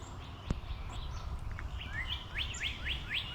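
An American robin calls by a riverbank with a string of quick, fairly faint chirps and whistled notes over soft outdoor background noise.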